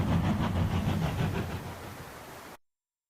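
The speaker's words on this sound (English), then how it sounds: "let's journey on the train now and see where it takes us" Train ride in the World of Final Fantasy game: a steady, loud low rumble with rhythmic clacking pulses, holding for about two and a half seconds before cutting to silence.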